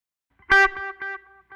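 A distorted electric guitar note through a Line 6 POD GO delay rings out with repeating echoes trailing behind it, a few sustained repeats fading before another note starts.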